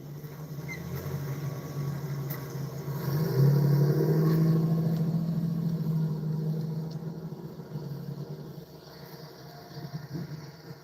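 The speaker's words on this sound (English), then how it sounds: "Watch out. You got a car on your left." A car passes on the left, its engine rumble swelling loudly, holding for a few seconds, then fading away under steady road and cabin noise.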